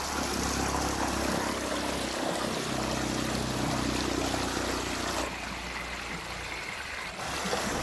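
River stream water flowing, a continuous broad rushing wash that holds steady and then drops slightly quieter near the end.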